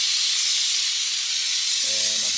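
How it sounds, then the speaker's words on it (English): Steam hisses loudly and continuously from a pressure cooker during a quick release while pinto beans cook, a harsh, unbroken blast heard from several feet away, with a brief tonal whistle near the end. "I'm probably 6-8 feet away, and I can still feel the steam. And you can hear how loud it is."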